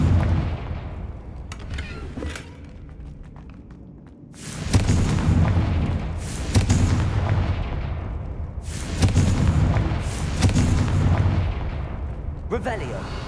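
Confringo spell blasts in the Hogwarts Legacy video game, several loud explosive booms in bursts a few seconds apart, each with a rumbling decay, separated by quieter stretches.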